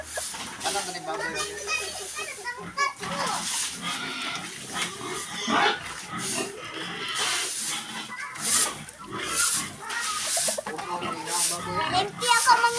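White pigs, hungry for food, grunt and squeal in a busy, irregular chorus up close, with snorts and rustling between the calls and a voice speaking over them at times.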